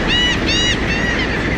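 A large flock of migratory birds calls as it flies in, with repeated honking cries overlapping in quick bursts, loud and close over a constant background rush.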